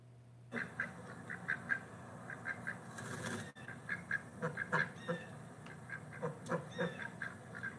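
Several ducks quack repeatedly in short bursts outdoors, close and clear, with a brief flurry of wing flapping partway through and a steady background hum.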